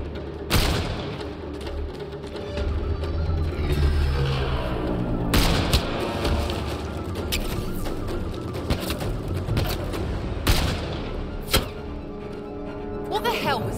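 Gunfire in a Mass Effect Andromeda battle: sharp shots and heavy booming impacts crack out irregularly over a dense combat din, with voices speaking intermittently beneath the action.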